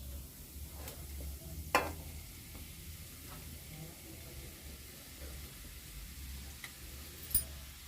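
A tender jackfruit vegetable is stirred in a pan over low gas, making a soft, constant sizzle with a few sharp clicks and scrapes of the spoon.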